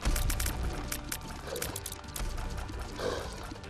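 Rushing water filling a room in the video game The Binding of Isaac: Afterbirth, a dense, continuous pouring wash with gentle swells, loud and steady throughout with no voices.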